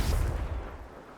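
A Confringo spell blast in Hogwarts Legacy: a single heavy, booming burst that hits loudly at once and then rumbles away into a fading tail.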